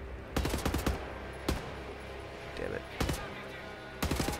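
Gunshots in Wolfenstein: The New Order, short bursts of sharp rapid shots repeating every second or so, loud and close, with someone briefly talking between them.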